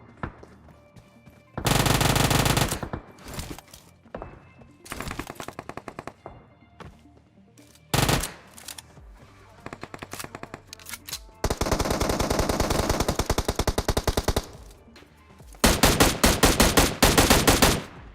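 Uzi submachine gun fire in a shooter video game, loud rapid bursts of automatic shots repeating in several long volleys with brief gaps and scattered single cracks between them.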